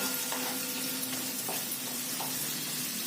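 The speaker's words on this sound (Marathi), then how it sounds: "थोडस कांदा परतून घेतल्यानंतर कांदा आता परतला गेलाय" Chopped onion sautés in a pressure cooker for Marathi-style dal khichdi, giving a steady, faint sizzle with a few soft stirring scrapes and no talking.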